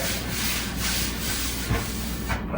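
A terry cloth wipes finish onto a sanded wooden nightstand top in steady, close rubbing strokes that form a continuous dense swish, with no talking.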